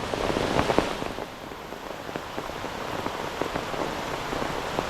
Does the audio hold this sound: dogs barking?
no